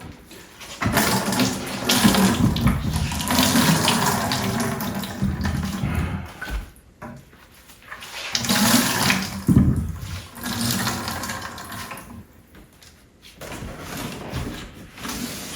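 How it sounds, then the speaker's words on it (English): Water gushes and drains from a cut supply line feeding a shower valve during bathroom demolition, arriving in loud surging bursts that fade between them, close by and with no talk. "most of this water is coming from the line that goes up to the shower valve"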